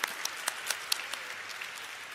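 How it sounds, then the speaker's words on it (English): Faint, brief applause, a soft wash of clapping with a few sharper individual claps standing out near the start, fading quickly. "that deserves a round of applause"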